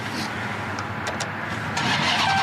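Supercharged Hellcat Cuda firing up on the valet key, its exhaust gates open: a continuous loud, rough engine roar up close, a few brief higher-pitched bursts partway through, and a surge in level near the end.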